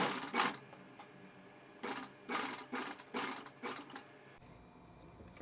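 A sewing machine runs short stitching bursts on princess-cut blouse fabric, several quick mechanical rattling runs separated by brief pauses, close and moderately loud, ending in quiet.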